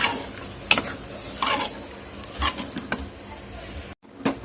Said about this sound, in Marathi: आणि छान असं ह्याला मिक्स करून घ्यायचंय आपल्याला परत एकदा